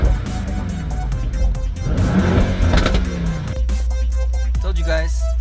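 A 2017 Mercedes-AMG E63 S 4MATIC+ Estate lets out a loud, close exhaust rumble, with deep throaty revs surging and falling and sharp crackles and pops as the throttle lifts near the end.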